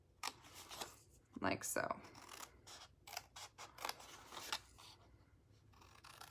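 Scissors cut down the score lines of a cardboard treat box in several crisp, close snips, with a person talking over the cutting.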